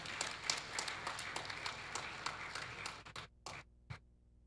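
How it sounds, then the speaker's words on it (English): Applause at a TETFund tenth-anniversary celebration event after a speech, a dense spread of claps that thins out into a few last scattered claps before stopping. "Let's have another big round of applause for our chairman for today."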